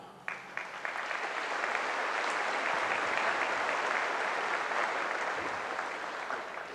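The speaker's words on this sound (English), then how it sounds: "Please give each of them a round of applause." An audience applauds departing students at a high school graduation ceremony, a broad, sustained wash of clapping from a large crowd, steady and moderately loud, easing off slightly toward the end.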